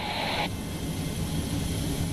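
A rescue helicopter hovers about 20 metres above water during a winch rescue; its engine and rotor give a loud, constant roar throughout, with a brief higher-pitched tone at the very start.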